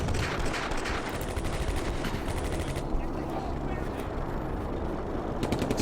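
Rapid gunfire from a World War II battle in the Combat Mission: A Bridge Too Far video game, with dense bursts of automatic fire over constant battle rumble, loud and continuous, thinning briefly before resuming.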